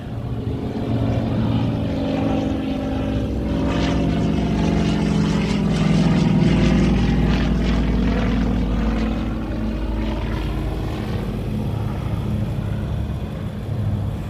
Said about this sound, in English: There's just something about these World War II vintage aircraft.